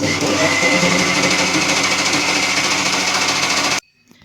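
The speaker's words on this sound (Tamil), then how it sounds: "இப்போ வந்து பார்த்தீங்கன்னா முறை மிக்சியில் நல்லா அடிச்சாச்சுங்க" Electric mixer grinder blending a buttermilk mixture roars loudly and steadily at close range, then cuts off abruptly near the end, leaving near silence with faint rattling and no talking.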